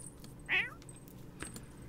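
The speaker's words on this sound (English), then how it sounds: "Now I'm just watching the cats." A single short cat meow from the video game The Sims 4, rising and falling briefly over a low steady background hum, with no talking.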